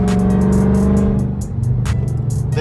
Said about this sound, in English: You hear the pops from the Lambo.